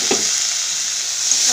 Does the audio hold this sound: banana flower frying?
yes